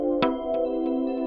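A short synth melody layered with bell tones for a beat, a sustained harmonic chord with several bright plucked hits recurring at an even pace, heard alone.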